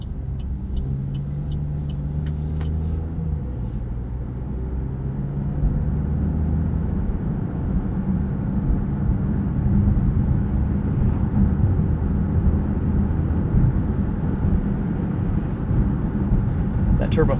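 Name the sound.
2024 Buick Envista turbo three-cylinder engine accelerating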